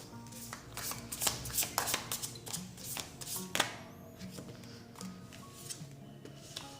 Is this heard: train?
no